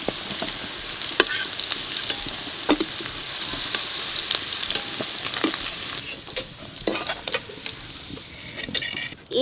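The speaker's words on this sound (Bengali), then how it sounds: "ঈশ্বর আলু ভাজা হয়ে গেছে" Boiled potatoes frying in oil in a pan for a Bengali jackfruit and prawn curry, a continuous sizzle with scattered clicks and stirring scrapes, close and fairly quiet.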